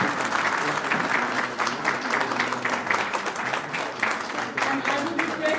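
Loud, continuous audience applause greets a guest of honor at a women's awards ceremony, rhythmic clapping from a sizable crowd with a few louder, closer claps and faint crowd murmur underneath.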